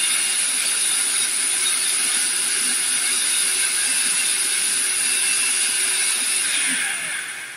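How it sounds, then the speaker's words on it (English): A food processor whirs loudly and steadily as it blends peeled sweet potatoes, a continuous grinding motor drone that winds down at the very end. "I will blend them up just a little bit before I add the ingredients"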